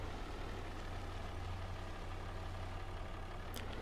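A tractor engine runs steadily in Farming Simulator 25, a low, even drone that stays constant in level throughout, with no talking over it.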